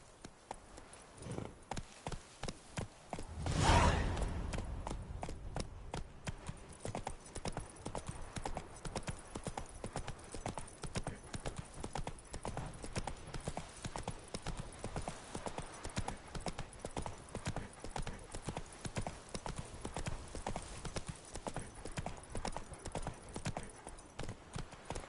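Horse hooves in The Witcher 3 beat a steady, continuous clip-clop throughout, with a brief loud whinny or snort early on; a voice speaks briefly.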